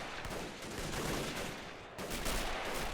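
Dense, continuous battlefield gunfire from a Hotchkiss machine gun in the WW1 game Men of War: Assault Squad 2, defending a French bridge. It forms a steady, rough wall of crackling shots and noise that swells slightly near the end, with no speech.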